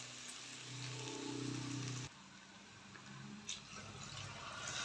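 Faint splash and hiss as water goes into a pan of frying chicken legs, a soft sizzle that drops off sharply partway through, then a quieter bubbling simmer.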